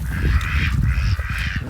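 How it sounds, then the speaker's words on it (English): Nearby ducks honking and quacking in a steady, noisy chorus with no one speaking. "Them are our ducks."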